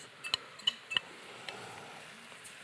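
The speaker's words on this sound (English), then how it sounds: "where do you learn to flip a pan like that?" Mushrooms and green onions cooking in oil in a pan, heard as a few sharp metallic clinks and clatters of the pan being flipped and tossed over a faint, steady sizzle, close by with no talking.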